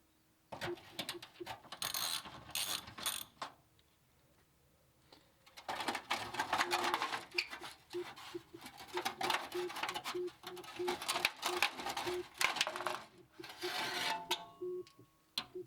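The rear heat shield comes off a BMW E46 M3 with bursts of ratcheting and rattling mechanical clicks, close and fairly loud, stopping for a quiet gap before starting again.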